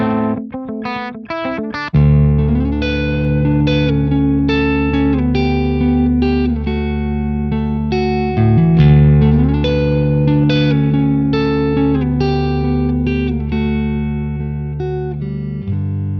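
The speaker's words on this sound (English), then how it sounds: "It's quite a pretty clean sound." Electric guitar chords ring out in a clean tone, picked notes sustaining with a roomy reverb tail, loud and alone.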